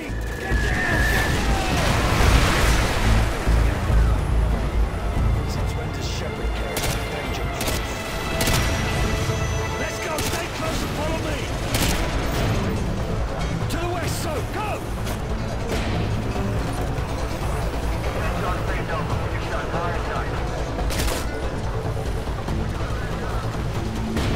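Artillery strikes in Call of Duty: Modern Warfare 2 land as a steady roll of heavy booms and bursts, loud and close, layered over constant battle noise with voices talking through it.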